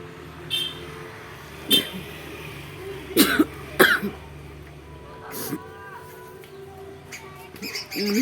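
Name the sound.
person coughing while attempting to sneeze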